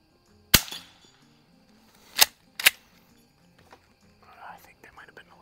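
A Savage model 29A pump-action .22 LR rifle firing at an outdoor range, three sharp, close cracks spaced a second or two apart, with faint mechanical handling noises and quiet talk between shots.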